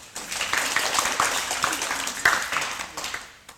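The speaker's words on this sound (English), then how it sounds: "Give her a round of applause." An audience applauds at a Dharma talk, a dense patter of many hands clapping at moderate distance for a few seconds before trailing off.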